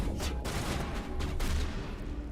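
Rapid, dense gunfire from the video game Mass Effect, a continuous loud volley of overlapping shots with no pause.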